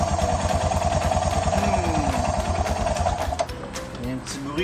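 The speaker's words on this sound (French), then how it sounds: "Il y a un petit bruit que j'aime pas bien dans le fond du moteur." A motorcycle engine idles close by with a rapid, even mechanical ticking and clatter, an odd knocking noise deep inside the engine, before the rhythm breaks off near the end.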